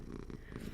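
A ginger pet cat purrs steadily right beside the microphone, a continuous low rumbling vibration with no talk over it.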